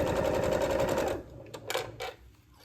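A sewing machine stitches steadily with ecru off-white thread at a short, tight stitch length for holiday quilt blocks, a fast rhythmic whir for about a second before stopping, leaving a few faint clicks and handling noises.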